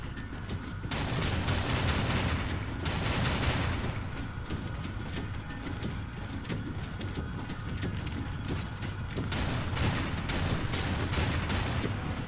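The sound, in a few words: Death shooting a gun in Darksiders 2 video game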